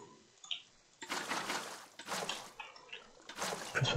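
In the Minecraft video game, water is placed block by block, making three short, close splashing gushes separated by brief quiet gaps, the last one the loudest.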